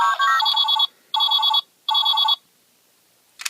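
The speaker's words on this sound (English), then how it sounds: "any random button press makes the ringing noise" A Power Rangers Megaforce Robo Morpher toy gives an electronic telephone-style ring on a button press: three bright, buzzy bursts of trilling tone with short gaps between, then silence and a brief click at the end.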